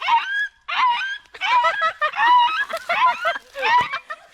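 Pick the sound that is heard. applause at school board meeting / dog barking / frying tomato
dog barking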